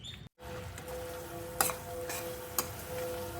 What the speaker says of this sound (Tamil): ஒரு 5 நிமிடம் மட்டும் இப்போ கிண்டி விட்டுக்கிட்டே இருக்கணும்